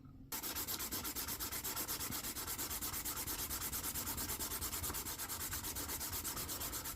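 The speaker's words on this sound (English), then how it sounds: "I am sanding them down" Glued Gunpla model kit parts are sanded with rapid, even back-and-forth strokes, a close, steady rhythmic rasp that starts abruptly and continues without pause.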